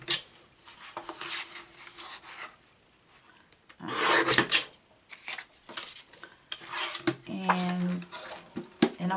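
A paper trimmer slices through paper in short rasping strokes, with a longer louder cut in the middle and a few smaller cuts and taps around it, close by with faint talk at times.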